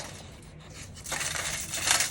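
A cured concrete bowl cracks free of its mold after its top edge is scored with scissors, giving a short crunchy crackle and scrape that builds louder toward the end, close and alone.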